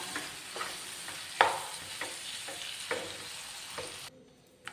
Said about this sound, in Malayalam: ഇനി ഇത് നന്നായിട്ടൊന്ന് നമുക്ക് ഇളക്കി ചേർക്കണം